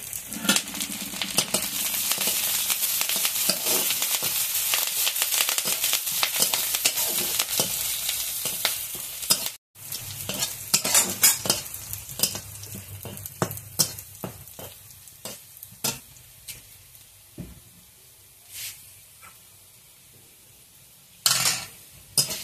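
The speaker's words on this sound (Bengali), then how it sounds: "পেঁয়াজ রসুনটা আমার ভালোভাবে ভাজা হয়ে গেছে।" Chopped onion, ginger, garlic and curry leaves sizzle steadily in a hot pan, with a spatula scraping and clinking against the metal throughout; the frying is loud at first, then quieter and broken by sharp clinks.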